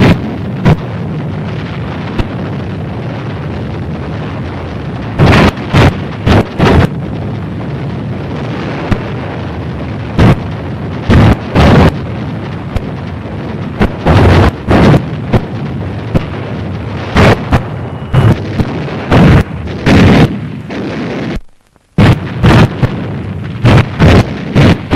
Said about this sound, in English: From the air, supporting ships deliver point-blank fire.